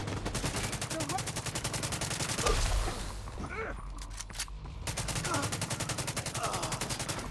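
Gunfire in Tom Clancy's The Division 2, rapid repeated automatic shots in dense bursts with a brief lull in the middle, loud and close, with a voice talking underneath.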